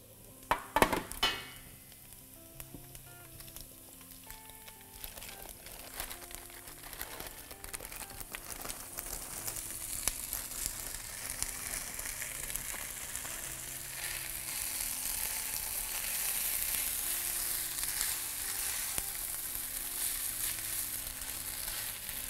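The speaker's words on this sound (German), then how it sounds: "Die Spätzle brate ich jetzt ungefähr 5 Minuten an, damit die so richtig knusprig werden auch." Spätzle with chopped garlic fry in a pan for a vegan dish, a soft, even sizzle that builds gradually, with a few clattering knocks near the start.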